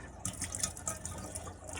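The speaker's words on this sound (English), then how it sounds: "With a copper tap, it's linked to a pump on the floor, so there we go, have our water" Water runs from a copper tap supplied by a floor-mounted pump, a steady, close liquid flow with brief splashy bursts throughout, no talking.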